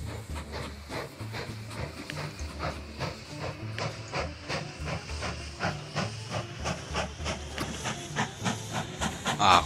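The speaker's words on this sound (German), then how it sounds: "Da kommt unser erster Zug und sieht das nicht schick aus hier?" Steam locomotive arriving in the railway management game Mashinky; rhythmic chuffing hiss repeating in a steady, slightly quickening pulse with a low rumbling undertone, building louder toward the end.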